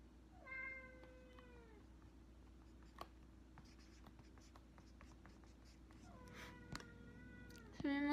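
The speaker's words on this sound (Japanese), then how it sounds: "もう猫も喜んでます。" A cat meows several times in a quiet indoor room, with short rising-then-falling cries near the start and again toward the end, mixed with faint scratching of pen on paper.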